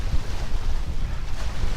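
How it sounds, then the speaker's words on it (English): Strong wind buffeting at Malham in the Yorkshire Dales, a loud, low rumbling roar gusting unevenly against the microphone. "The wind is strong."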